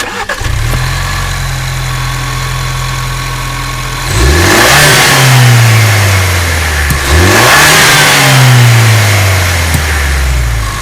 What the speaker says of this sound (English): I'm going to go ahead and show you the sound of the stock blow-off valve in the Bronco.